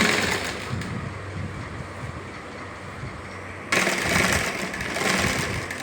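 A sewing machine runs steadily while stitching the side seam of a lined churidar top, a continuous mechanical whir that grows louder and busier partway through, heard close up with no talking.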